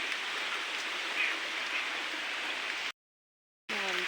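Heavy rain pours down outdoors in a steady, dense hiss that holds for about three seconds, breaks off into a brief silence, then resumes with a voice faintly audible beneath it.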